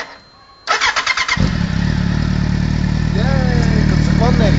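A Kawasaki Z750S Supersport motorcycle engine cranks briefly with a few rapid starter pulses, then catches and settles into a loud, steady idle with light revs, heard up close.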